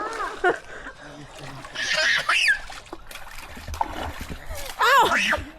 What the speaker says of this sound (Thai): แม่ไปสาดน้ำใส่มันทำไม